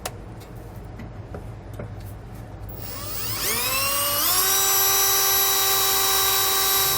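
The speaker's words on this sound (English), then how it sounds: "I'm going to start with a really small drill bit just to get a pilot hole going" A power drill with a small bit bores pilot holes while SumoSprings Maxim helper springs are fitted to a 2020 Winnebago. After about three seconds of quiet room noise, the motor whine climbs sharply in pitch, then holds a loud, steady, close-up drone.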